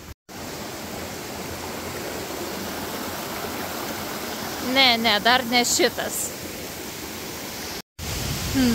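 A steady roar of falling water fills the scene, with a voice speaking briefly partway through over the constant rush.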